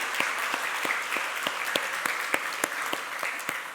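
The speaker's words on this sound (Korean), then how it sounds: "모든 분들 격려하고 환영의 박수 같이 하시겠습니다" A church congregation claps in welcome during a Sunday worship service, a dense, steady wash of many hands with sharp individual claps popping out, sustained throughout at moderate level.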